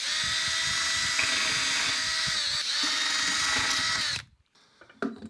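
A power drill whines steadily at high pitch for about four seconds, then cuts off abruptly, followed by a few faint clicks and handling noises.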